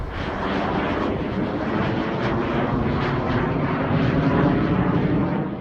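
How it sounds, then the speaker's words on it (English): A North American F-86 Sabre jet circles near a park after an air museum visit, its engine a steady, loud, broad roar that holds at even level throughout with no talking. "that F-86 Sabre was circling around the park we're at."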